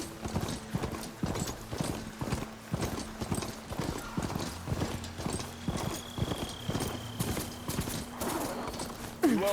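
Hooves of a charger herd, robotic horse-like machines in the video game Horizon Forbidden West, clop in a fast, steady galloping rhythm at moderate distance, with a faint high tone drifting in partway through.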